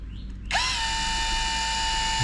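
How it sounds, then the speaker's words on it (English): A power drill whirs up abruptly and holds a steady high-pitched whine, loud and close, running continuously with no voices. "So drill holes to secure it."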